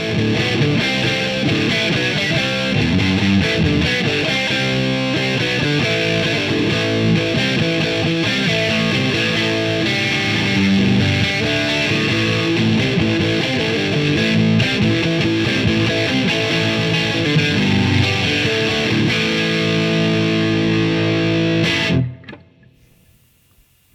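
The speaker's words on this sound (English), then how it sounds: "here's the middle position, both pickups on. Let's do the same riff so you can hear the difference." A loud, heavily distorted electric guitar, a Samick Greg Bennett Telecaster with both pickups on in the middle position, plays a chugging riff for about twenty seconds, then cuts off abruptly into near silence.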